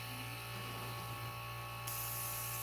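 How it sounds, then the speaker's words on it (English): An airbrush spraying Createx paint over brown fur on Blair synthetic paper starts partway through as a sudden, soft, steady hiss above a quiet electrical hum, with no talking. "Now I'm going to spray light over this brown, just a little bit"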